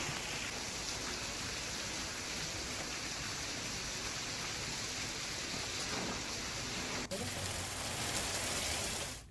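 Heavy monsoon downpour in Saurashtra, a dense, steady roar of rain on surfaces that fills the whole stretch without pause.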